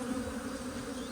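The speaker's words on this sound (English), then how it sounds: "They're very, very angry, these bees" A swarm of angry honey bees inside a solid chimney, a dense, steady buzzing drone, close and continuous, with no voices over it.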